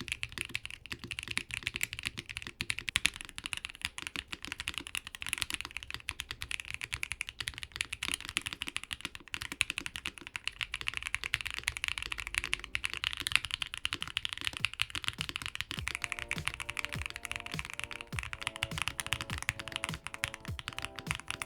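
Steady, fast typing on a Wind Studios Sin 65 mechanical keyboard with aluminum and PC plates: close, dense, quiet clacks throughout, with a faint musical background entering near the end.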